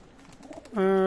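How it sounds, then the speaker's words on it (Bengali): Female Chinese Teddy pigeon gives a single short throaty coo near the end, close and clear after a brief stretch of faint murmuring. "এটা হচ্ছে চীনা টেডি মাদি কবুতর"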